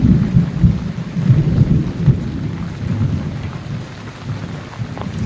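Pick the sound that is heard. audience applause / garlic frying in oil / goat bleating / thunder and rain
thunder and rain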